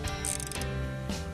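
Ratchet wrench clicking as it tightens the oil drain plug on a 2004 Lincoln Town Car with a 4.6 V8, a close, steady run of mechanical ratcheting with a brief pause partway through.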